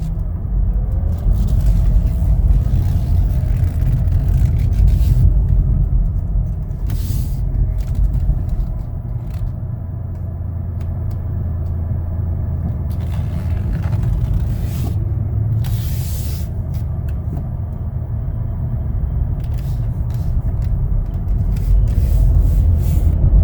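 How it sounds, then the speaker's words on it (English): A 2019 Chevrolet Equinox LT compact SUV on a test drive, heard from inside the cabin as a steady low engine and road rumble with tire noise, continuous throughout with occasional brief hissing and clicking sounds. "We're all set to take it for a test drive. I just put it in drive right now."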